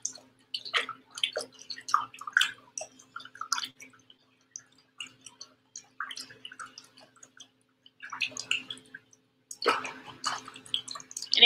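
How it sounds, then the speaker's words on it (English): A paintbrush is swished and rinsed in a container of water while furniture is being painted, giving bursts of close splashing and dripping with quiet pauses between them. "Oh, I'm going to have to rinse my brush out."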